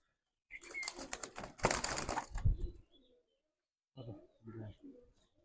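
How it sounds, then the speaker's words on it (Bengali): A pair of pigeons is let go, with a loud burst of wing flapping and fluttering up close, then a pause followed by softer low cooing calls. "আর যেটা কবুতার আমি ছেড়ে দেখাচ্ছি"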